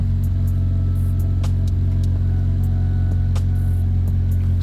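A Honda EK fitted with a K20 engine idles steadily and loudly close by, a deep continuous rumble with faint ticks over it and no talking.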